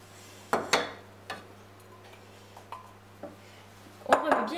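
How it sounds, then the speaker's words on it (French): Choux dough stirred vigorously off the heat in a saucepan after the flour goes in, giving scattered scraping clinks of utensil against pot over a low steady hum. "On remue bien énergiquement"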